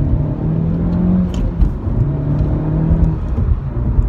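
A 2018 Honda Civic Type R accelerates hard, its engine note rising and holding through a gear change, loud and close from inside the cab, with no talking.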